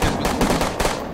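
Gunfire in the online shooter Survarium, a dense burst of loud, rapid shots packed into about a second, close and harsh.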